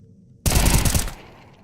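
A single rapid burst of AK rifle fire in Counter-Strike during an esports match, loud and close, cutting in abruptly from near silence and lasting under a second before a short fading tail.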